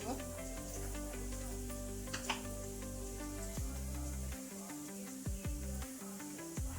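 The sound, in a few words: spice paste tempering in hot oil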